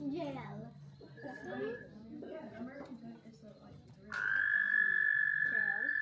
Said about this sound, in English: That is American toad.